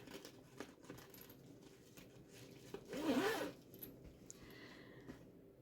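A zipper on a canvas art case with a mesh pocket is drawn open in one quick, close pull lasting about a second, with quiet handling before and after.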